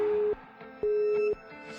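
Phone busy tone heard when calling a blocked number: two loud, steady tone pulses separated by silent gaps, close and clear with no voices.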